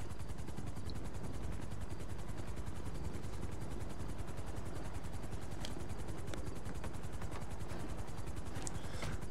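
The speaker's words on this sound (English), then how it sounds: "Right, get in the chopper." A helicopter's rotors thud in a fast, constant beat inside a PS4 police role-play game, filling the scene evenly with a few sharp cracks scattered over the drone.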